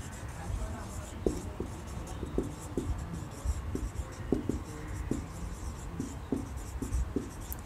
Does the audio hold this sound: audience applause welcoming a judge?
no